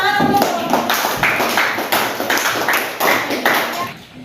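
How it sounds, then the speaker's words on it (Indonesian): A classroom of students claps together in a rhythmic pattern of sharp, bunched bursts about twice a second, loud and close, with voices mixed in. "Tepuk tangan untuk"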